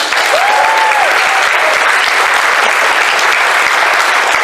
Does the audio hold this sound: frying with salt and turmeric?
no